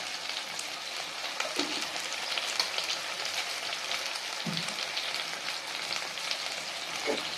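Spices and turmeric frying in a pan for a Tamil brinjal and chili tamarind curry, a steady dense sizzle with crackling pops running throughout, close and continuous.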